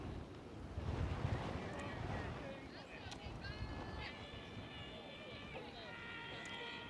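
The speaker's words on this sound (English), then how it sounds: "just like that the wind is blowing in South Wales" Wind gusts across an open-air American football field in South Wales, a rough, steady rumble buffeting the microphone throughout, with faint voices and some higher tones mixed in underneath.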